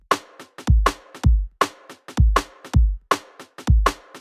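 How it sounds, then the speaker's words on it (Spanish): Drum and bass beat programmed in FL Studio with soft ghost notes, a punchy kick and snappy snare looping at a brisk tempo, quieter filler hits tucked between the main strikes, with no voices. "Esa es la base del drum and bass."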